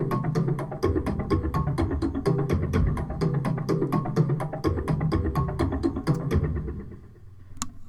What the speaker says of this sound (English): We've got that kind of crazy sort of percussion sound.